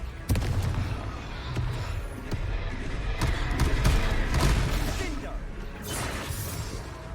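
Confringo fire spell cast in the video game Hogwarts Legacy: several sharp explosive bursts and thuds over a steady rumbling game soundscape, loud and close.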